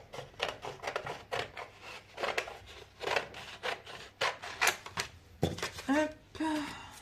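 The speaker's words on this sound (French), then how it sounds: "à main levée, pour aller découper des cercles" Paper circles being cut freehand with scissors for small folded and glued baskets: a steady run of close, crisp snipping and rustling strokes, with a brief voice near the end.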